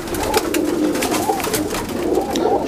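High-flying pigeon hen of a Sialkoti breeding line cooing close by: soft, repeated throaty coos roll through the whole moment over a faint background hum, with no speech.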